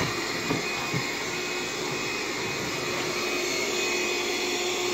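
A vacuum cleaner runs steadily for a carpet cleaning test comparing Bissell, Hoover and Dyson machines, giving a loud, continuous high-pitched whine over a broad roaring hum with no talk.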